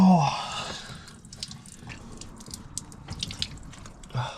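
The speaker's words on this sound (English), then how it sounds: "Time to rinse off." Water runs and splashes from a foot-pump sink inside a van as someone rinses off, a close, uneven trickle and drip with soft handling noise.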